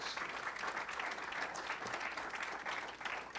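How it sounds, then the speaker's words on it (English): Audience at a college distinguished leaders event applauding steadily, a dense, even wash of many hands clapping at moderate distance, sustained throughout without talk. "let's give them a round of applause."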